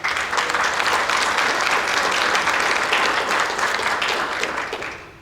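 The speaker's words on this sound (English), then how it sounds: "please join me in a round of applause for event partners" Sustained audience applause for event partners Southwest Key Programs at a community event with city officials present, dense and steady for several seconds before tapering off near the end.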